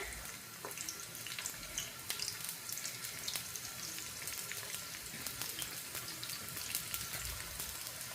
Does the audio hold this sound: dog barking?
no